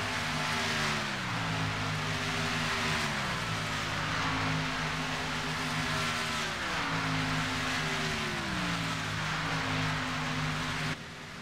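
Race trucks drone around the Talladega super speedway in iRacing, engines holding a steady loud roar with repeated rising and falling pitch sweeps as they shift gears, continuous throughout.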